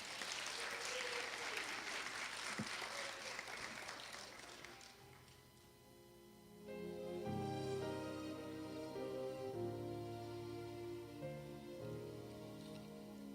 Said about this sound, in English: y'all give a round of applause as they come and introduce themselves